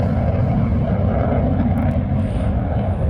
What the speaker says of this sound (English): And then from that high-speed pass, a brutal pull-up.